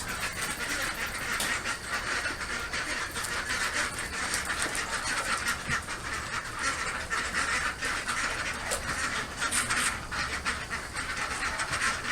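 Ducks quacking and chattering continuously over a busy outdoor background, steady and moderately close.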